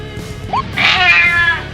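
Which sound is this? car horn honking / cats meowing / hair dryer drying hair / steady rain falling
cats meowing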